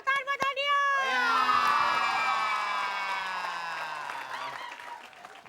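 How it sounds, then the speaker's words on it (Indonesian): An audience applauds a contestant named Onion on an Indonesian TV comedy variety show, loud and sustained for about four seconds, with bright tonal cheering or a show sound effect ringing over the clapping before it fades. "Tepuk tangan buat Onion"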